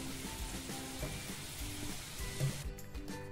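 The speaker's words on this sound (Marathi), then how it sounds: "आता मी सगळे मोदक अशा पद्धतीने तळून घेते" Modak dumplings made from wheat and maida flour frying in hot oil: a soft, steady bubbling sizzle with scattered crackles, faint and continuous throughout, with no talking over it.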